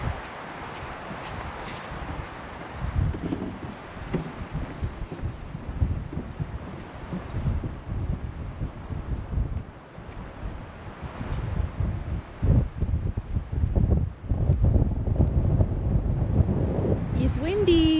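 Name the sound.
wind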